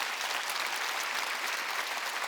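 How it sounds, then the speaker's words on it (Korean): A congregation claps together during a Wednesday church worship service, producing a steady, even wash of applause at moderate volume that continues throughout without any voices over it. "더 세게 박수 치라고요"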